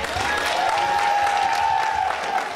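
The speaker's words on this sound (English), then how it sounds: "Please, let's keep our applause to a minimum because we are running behind time." Sustained audience applause with light cheering after a speech at an association election meeting, steady clapping from a crowd with a faint voice beneath.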